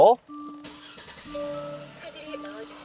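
A Genesis G90 luxury sedan with a naturally aspirated engine starts up with a short, sharp crank burst, then settles into a smooth, quiet idle with faint tonal hums heard from inside the cabin.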